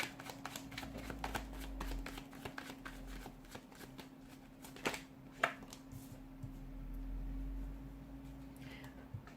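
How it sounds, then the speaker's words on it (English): Tarot cards shuffled by hand over several seconds, soft repeated papery flicks and slaps at an irregular rhythm, quiet and close with no talking. "give the cards a shuffle and begin"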